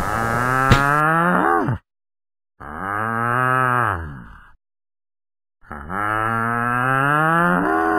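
Cattle moo loudly in three long drawn-out calls separated by silent gaps, each low, droning and rich in overtones, close and clear.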